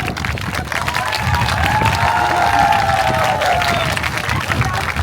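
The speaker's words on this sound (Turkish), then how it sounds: "Sırayla alkış istiyorum." A crowd at an event in Foça, Turkey, claps and cheers continuously, dense and close, with excited voices and whoops mixed into the applause.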